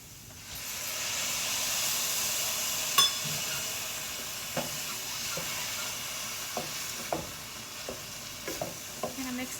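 Bone broth and milk are added to a hot pan for a homemade chicken pot pie filling, giving a steady hissing sizzle with faint scraping and stirring clicks scattered through it.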